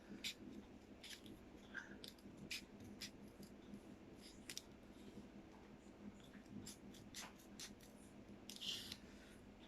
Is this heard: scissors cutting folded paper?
yes